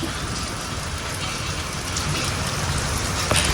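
A steady heavy downpour hisses and patters nearby, seen from a village house courtyard, loud and unbroken, with a brief knock near the end.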